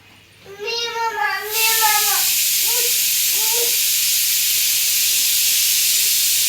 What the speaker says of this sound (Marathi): चिट्टी वाजली ना कुकरची